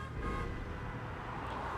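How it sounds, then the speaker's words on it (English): Car horns toot over steady street noise at a St. Louis protest scene, a short honk near the start and more blaring mixed into the crowd's chanting din. "we're hearing a lot of honks, a lot of chants"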